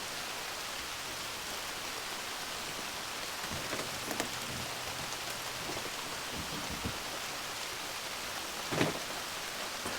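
Steady rain pours down around an abandoned cabin in rural Georgia during a thunderstorm, a constant hiss with a few low distant rumbles and a brief louder crack near the end, no talking.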